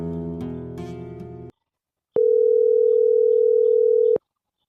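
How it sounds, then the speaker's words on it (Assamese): A steady telephone dial tone hums for about two seconds after a brief burst of music, then cuts off abruptly. "মই ফোন এটা মাৰি লওঁ"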